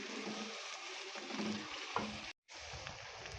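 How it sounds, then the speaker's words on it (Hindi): Onions fry in a pot for biryani, cooked to a light pink colour, with a steady, fairly quiet bubbling sizzle that runs continuously apart from one brief cut-out. "प्याज हमारा फ्राई होने वाला है, देख सकते हैं आप"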